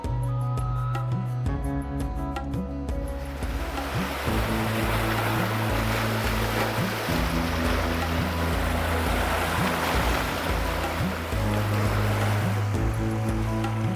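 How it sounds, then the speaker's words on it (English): Waves lapping along the Adriatic coastline, a steady wash of surf and breeze, with a low droning engine tone running underneath throughout. "Lapping waves seemed to slow everything down"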